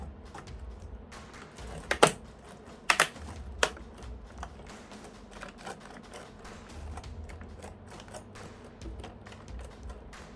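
Clicks and taps of a replacement laptop keyboard being pressed down and seated into a notebook chassis, with a few sharp louder snaps near the start over a steady low background.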